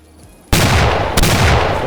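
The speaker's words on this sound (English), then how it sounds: "Even though I missed the first shot, still got him with the second shot" A double-barrelled shotgun fired twice in Roblox's The Wild West: two loud, close blasts about two-thirds of a second apart, each with a sharp crack and a short ringing tail.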